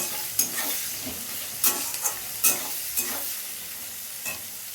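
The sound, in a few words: onions frying in a pan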